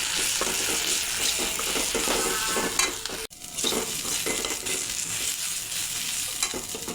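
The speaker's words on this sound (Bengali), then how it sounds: "মশলাটা এখন ভালো করে কষিয়ে নেব।" Ginger-garlic-cumin paste with turmeric, coriander, salt, chili powder and a splash of water fries loudly in a pan for a fish curry, a steady dense sizzle with stirring scrapes and a brief break partway through.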